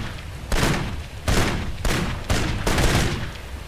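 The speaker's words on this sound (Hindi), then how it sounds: "कब से गोलियाँ मारने में लगा हुआ हूँ।" Heavy, loud gunfire in the shooter Kane & Lynch, arriving as four or five thick, booming volleys that each decay into a rumbling tail, with no voices over them.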